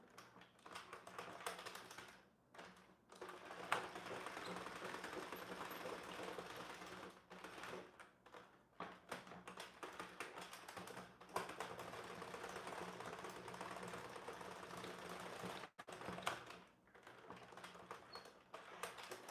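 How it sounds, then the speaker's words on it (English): The carriage of a hand-cranked knitting machine is driven back and forth, giving a quiet, steady mechanical clatter with a few brief pauses as it changes direction. "I'm just cranking clockwise, anti-clockwise, clockwise, back and forth, back and forth"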